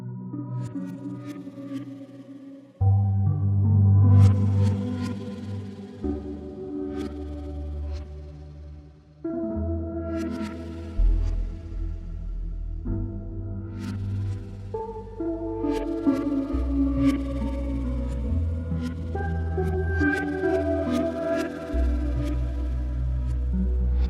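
A Soundpaint Caisa Drum, a handpan-like steel drum, plays slow resonant notes one after another, each sustaining and washing into heavy modulation, reverb and delay echoes. The result is an eerie, continuous, sonar-like tone.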